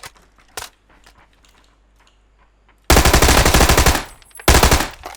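Automatic gunfire in the shooter game PUBG: two loud, dense bursts of rapid shots, the first lasting about a second and the second shorter, after a quiet stretch with a single faint pop.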